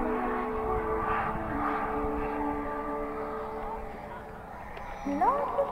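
A turbine-powered RC model jet lands at an outdoor flying field, its steady engine whine and roar sustained near the listener, with a rising whistle as it touches down toward the end.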